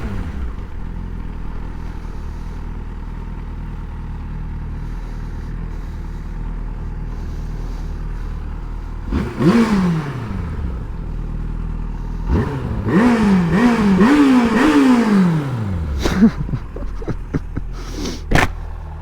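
A 2006 Yamaha FZ motorcycle with a noisy chain idling at a bridge, then revving in a few rising and falling bursts alongside clattering rattles, fairly close and loud.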